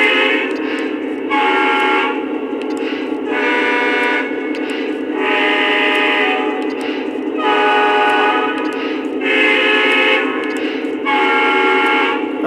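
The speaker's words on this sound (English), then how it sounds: "Let's try the horn sounds." The horn of an F40PH diesel locomotive on the Panama Canal Railway sounds in about six loud, sustained blasts separated by short gaps, close and alone with no talk.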